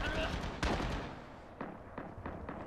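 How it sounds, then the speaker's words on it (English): Short bursts of rifle fire in the video game Rising Storm: one sharp loud shot followed by several quicker, fainter bursts spaced apart, with a voice talking underneath. "And I'm just firing burst."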